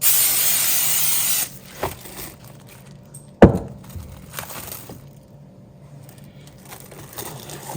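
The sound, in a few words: spraying cooking spray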